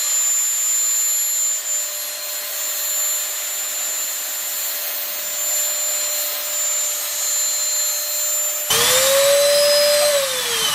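An electric power pump drones steadily and loudly while inflating an inflatable arch, with a steady whine that shifts pitch near the end as the load changes.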